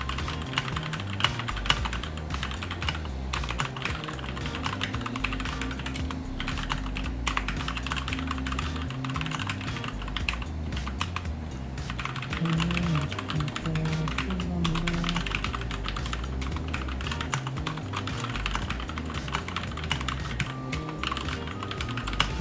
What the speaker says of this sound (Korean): 키보드를 쳐서 테스트를 해보도록 하겠습니다.